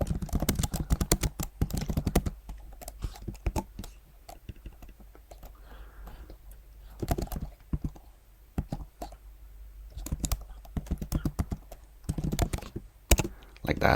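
Fingers typing text into a PowerPoint slide on a computer keyboard, a steady, close patter of light key clicks with brief pauses and a few quicker runs, heard alone.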